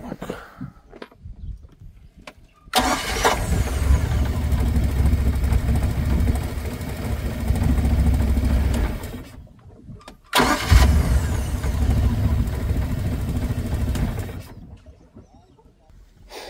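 A boat outboard motor fitted with a new starter cranks and catches, running loudly for several seconds, cutting out briefly, then starting again and running steadily before stopping.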